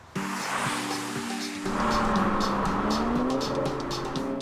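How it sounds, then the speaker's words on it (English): A BMW 335i engine revs and runs steadily, its tone rising as it accelerates, loud and close with a continuous hum. "I love the sound of its super trick engine"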